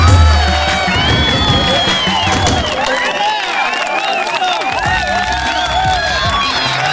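A crowd cheers, whoops and claps loudly and continuously at an International Women's Day celebration honouring women who deliver vaccines, a dense wash of voices and hand claps throughout.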